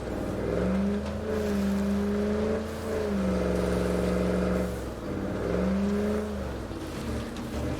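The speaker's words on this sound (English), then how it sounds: "Especially because I can hear the engine." A vehicle engine in a video game revs in long sustained tones, pitch rising and falling in repeated swells with a brief dip between them, loud and steady with no talking.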